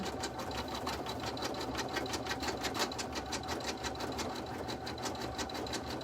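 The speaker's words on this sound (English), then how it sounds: "we're going to run this to tack down or stitch out our exterior piece" Embroidery machine stitching out the exterior piece of an in-the-hoop lined bag, a fast, even mechanical rattle of needle strokes running continuously, close and moderately quiet.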